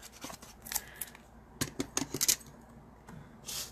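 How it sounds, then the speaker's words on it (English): Scissors snipping through layered paper for an embossing craft, a series of close crisp cuts and rustles in uneven bursts, with a final longer papery swish. "So we're just going to cut it real fast."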